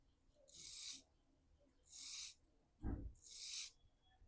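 A linocut gouge is rubbed on a cylindrical sharpening stone in three short, faint rasping strokes with a soft low thump between them, close and quiet.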